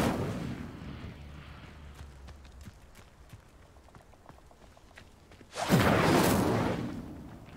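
A fire spell cast in Hogwarts Legacy on PS5 bursts out as a sudden loud whooshing blaze late in the clip, after quieter game footsteps and thuds, with no talking.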